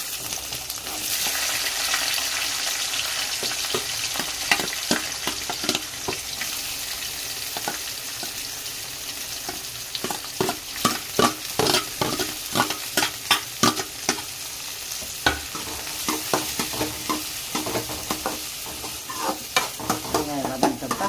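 Onions and curry leaves fry in a hot pan, a steady close sizzle broken by repeated scraping stirs that come in bursts, especially through the second half, with no talking.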